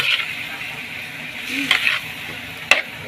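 A spoon stirs chicken with garlic and onion in a sizzling pan for chop suey, with scrapes and light clinks over a steady frying hiss.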